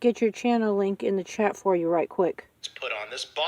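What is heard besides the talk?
No distinct noise like a dog, phone or traffic.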